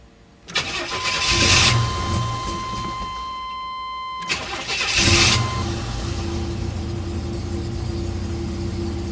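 A turbo Buick Regal engine cranks and catches, surges twice with a brief dip between, then settles into a steady, close idle with no talking.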